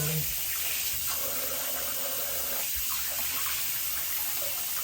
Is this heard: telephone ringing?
no